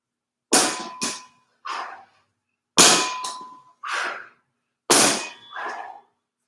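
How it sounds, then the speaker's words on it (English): Trap bar deadlift with loaded plates: three clean repetitions, each a loud close metallic clang followed by one or two smaller clanks, separated by silence. "That's trap bar deadlift."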